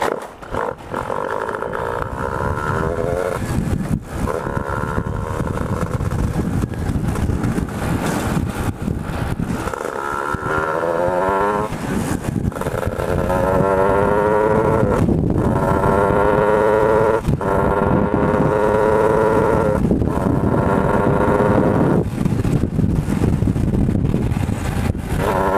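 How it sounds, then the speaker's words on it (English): Shifter kart engine pulling onto the Musselman Honda Circuit, screaming loud and close as it revs hard through repeated rising gear pulls, dropping briefly between shifts. "The shifter cart is now getting on the track."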